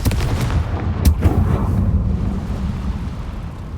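A Confringo blast spell from the video game Hogwarts Legacy, a loud rumbling explosive burst with a sharp crack near the start and a long roiling boom that slowly fades, no voices.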